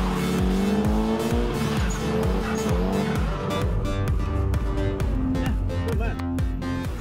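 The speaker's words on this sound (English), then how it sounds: "Lessons start with drift donuts and handbrake turns." A car at a drift school in Australia drifts hard, with revving engine notes rising and dropping repeatedly under a loud, continuous tire squeal, close and sustained throughout.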